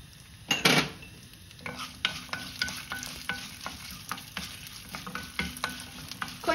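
Dried red chillies and garlic frying in oil for curry leaf kuzhambu, a bright crackling sizzle punctuated by a loud clatter at the start and then repeated quick scraping strokes of a spoon in the pan.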